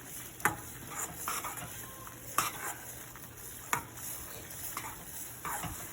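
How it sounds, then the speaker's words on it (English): Thick Kadai Prasad being stirred in a pan, soft scraping strokes at an irregular rhythm over a faint continuous sizzle, close and quiet with no talk. "we're just gonna keep stirring it so it gets a very thick consistency"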